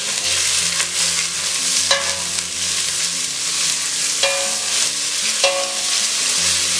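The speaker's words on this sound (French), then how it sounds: "Je tourne au moins pendant une minute comme ça." Onions, chives and bell pepper sizzling loudly in a frying pan while being stirred, a dense continuous hiss broken by a few scraping spoon strokes against the pan.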